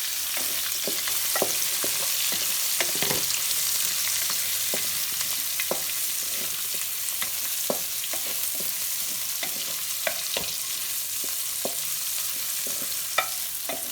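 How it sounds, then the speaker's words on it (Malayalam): Chopped shallots and green chillies sizzle and sauté steadily in hot oil in a pan for a Kerala-style country chicken curry, with occasional sharp crackles and stirring, close and fairly loud with no voices. "നന്നായിട്ട് നമുക്ക് അതിനൊന്ന് വഴറ്റിയെടുക്കാം."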